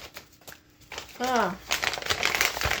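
Plastic packaging crinkles and tears open in a burst of rustling, with a voice speaking briefly partway through.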